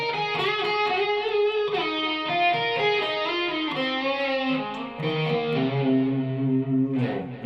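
An electric guitar solo from Airplay's "It Will Be Alright", played through distortion and effects, sings in sustained, bending lead notes with legato phrasing and rich harmonics, loud and alone.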